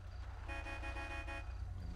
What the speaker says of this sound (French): Qu'est-ce qu'il klaxonne